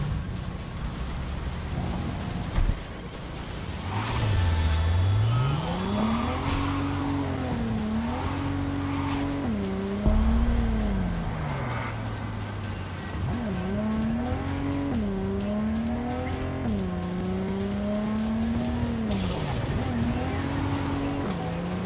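Car driven in the video game Cyberpunk 2077, an engine note rising and falling steadily through gear changes with occasional tire squeal, under someone talking.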